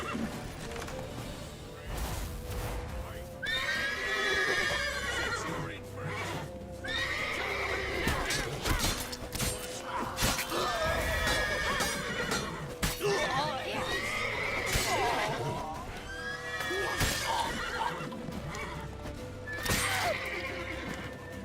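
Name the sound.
horses galloping and neighing, from video game The Witcher 3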